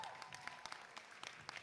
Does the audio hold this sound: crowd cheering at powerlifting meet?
yes